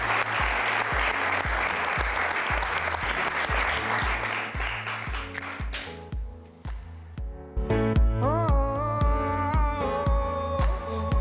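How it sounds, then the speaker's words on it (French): Loud, steady audience applause fills a campus television studio set, dense and continuous at first, then thinning as music with a beat and melody rises underneath. "Vous pouvez vous applaudir."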